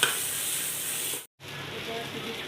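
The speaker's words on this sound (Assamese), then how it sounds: "ইয়াত অকণমান বকবকনি আহিব লাগিব, বস্তুটো ভাজ খাব লাগিব।" Steady sizzling of curry leaves frying in hot oil, loud and close, with a brief break in the middle before it resumes.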